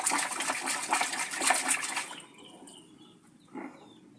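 Water swishes and churns vigorously as a vaccine bottle is immersed and stirred in three liters of water, a close, splashy rush for about two seconds, then quieter trickles and a brief slosh.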